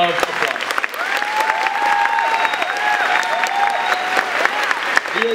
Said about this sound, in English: Can we give all of these amazing, generous sponsors a huge round of applause?